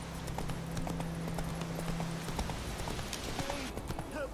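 Hooves of Roach, the horse in The Witcher 3, clip-clop in a steady galloping rhythm, close and continuous throughout, with a low tone droning underneath for the first half.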